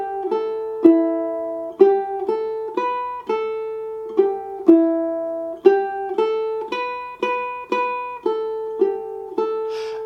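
Fingerstyle ukulele plays a song, clean plucked notes ringing out alone in a steady, unhurried picking pattern with each note decaying before the next.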